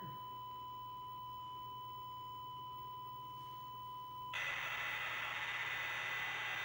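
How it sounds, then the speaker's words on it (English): Apple 1 program data played back from cassette tape: a steady, clean start tone holds for about four seconds, then gives way to a loud, dense modem-like data screech that continues unbroken to the end. "it's going to sound very much like a modem. And there's a start tone, and then it actually starts the data in a second."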